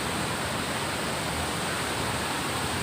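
Waterfall at Bubuludtua Falls roaring as a steady, loud broadband rush of falling water, heard close and unbroken throughout with no voices.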